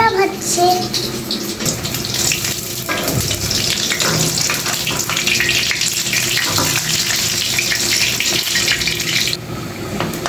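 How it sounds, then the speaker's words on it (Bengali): Pumpkin flower fritters fry in hot oil, giving a loud, continuous hissing sizzle heard up close that runs steadily throughout, with faint voices in the background. "দেখতেই তো পাচ্ছেন আমার নানু বড়া ভাজছে"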